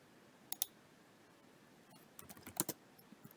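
Quiet typing on a computer keyboard, a few scattered light clicks followed by a short burst of quick keystrokes, soft and close.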